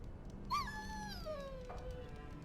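In the video game Dragon Age: Origins, a dog gives a long, high whimper that slides downward in pitch, followed by a softer short whine, heard close over quiet game ambience.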